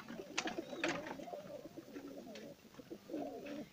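Soft, low pigeon cooing repeats in rolling phrases, with faint chirps above and a steady background hiss.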